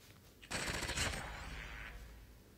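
MSMC submachine gun in Call of Duty Mobile firing one fast, dense automatic burst of under two seconds, sharp and close, then a short tail.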